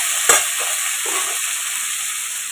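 Vegetables with a pinch of turmeric for a white chorchori frying in a pan: one sharp stir and scrape, then a soft steady sizzle that carries on alone.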